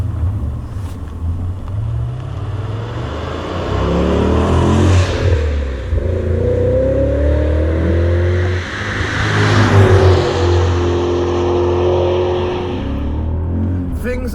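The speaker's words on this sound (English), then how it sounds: "The rumble of that V8 engine and the engagement of it when you set off." A BMW E39 M5 with its V8 engine pulls away, a loud, close, deep rumble that rises in pitch twice as it accelerates through the gears.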